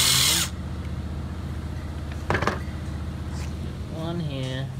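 Power tool whirs briefly to back out two bolts on an Acura RDX engine during valve cover removal, short drill-like bursts up close with quiet pauses between.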